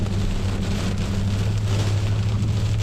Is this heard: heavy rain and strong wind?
yes